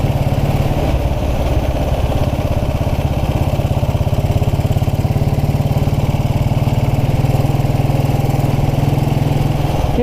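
A 1929 Black Ariel motorcycle riding country lanes, its single engine thumping in a fast, even, close-up beat with a constant loud drone and no voices over it.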